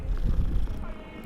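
A cat in the video game Hogwarts Legacy gives a short, low, rumbling purr-like sound, close and brief.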